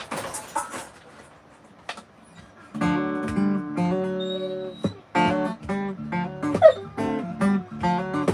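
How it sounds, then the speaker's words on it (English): A puppy barking and whimpering nearby, with a few sharp yips followed by longer whining, whiny cries in a quiet room, loud and close. "He's a puppy."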